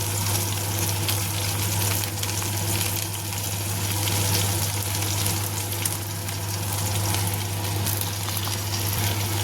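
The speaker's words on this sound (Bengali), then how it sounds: "এবার দিয়ে দেবো সামান্য একটু জল। জল দিয়ে মশলাটাকে মিলিয়ে দেবো।" Water poured into turmeric, salt and cumin powder in a pan for a bhindi and potato dish, giving a steady hiss and sizzle with a constant low hum throughout, no voices.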